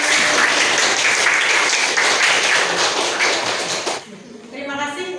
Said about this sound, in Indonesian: kita kasih aplaus untuk diri kita sendiri